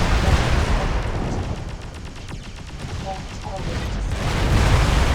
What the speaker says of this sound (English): He's shooting at my turret, though, which is kind of odd.